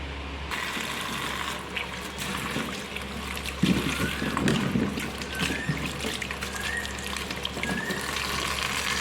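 Pointed gourds are rinsed in water, with trickling and splashing throughout under a steady background hum and a few louder handling sounds in the middle, with no talking.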